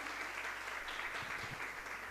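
Steady applause from an audience of schoolchildren and teachers at a district-level education event, continuous and fairly dense throughout, with faint voices underneath.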